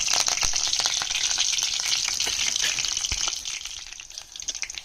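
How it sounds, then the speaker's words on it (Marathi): Curry leaves, dropped into hot oil after garlic for a village-style cashew curry, crackle and sizzle loudly in a steady hiss with sharp pops, close by and fading slightly toward the end. "मस्त तडतडला आहे कढीपत्ता बघा"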